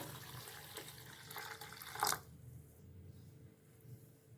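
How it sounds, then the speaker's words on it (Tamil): Water pours into semolina in a soft, quiet stream for about two seconds, then cuts off, leaving a faint hush. "தண்ணி சேர்த்துக்கலாம் வெள்ளாரவையில்"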